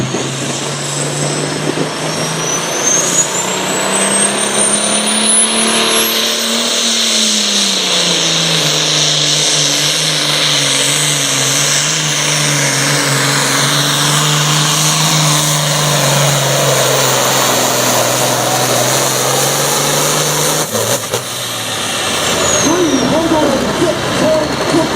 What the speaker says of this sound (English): Super Farm Tractor.